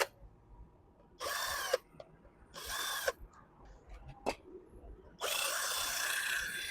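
A power drill bores holes into a wall for mounting solar inverter equipment, with three loud whirring bursts, the last one longer, separated by quiet pauses, faint clicks and knocks.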